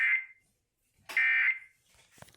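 Two loud, sharp electronic EAS test tones from KRBE-FM radio blare separately with a silent gap between them, followed by faint, scratchy broadcast noise.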